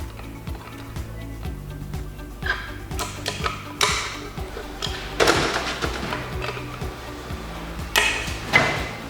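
Sheet metal is trimmed for a bread pan, with repeated snipping and clicking cuts forming an irregular run of sharp metallic ticks, close and moderately loud over a low background hum.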